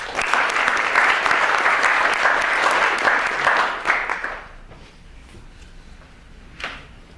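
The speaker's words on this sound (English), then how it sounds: "But a round of applause for both of them." An audience at a lecture series gives a round of applause, a dense burst of clapping lasting about four seconds before fading to a few scattered claps and room noise.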